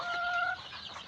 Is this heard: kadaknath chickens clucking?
yes